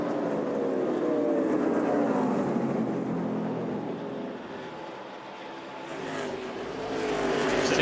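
NASCAR Cup Series stock cars roar around Richmond Raceway during a race, a loud continuous pack of engines with rising and falling pitch as cars sweep past, swelling again toward the end.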